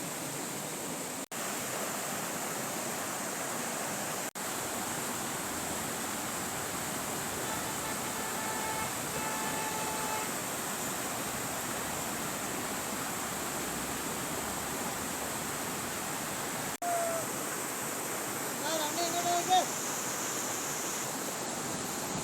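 The Valanjanganam waterfall near Kuttikanam in Idukki gives off a constant broadband rush of falling water. The roar is close and even, with no talking.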